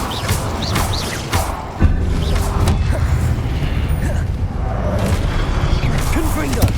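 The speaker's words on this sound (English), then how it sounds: "Incendio." A fire spell is cast in the video game Hogwarts Legacy, with a thud and a burst of roaring flame and crackle continuing amid game effects, with speech also present.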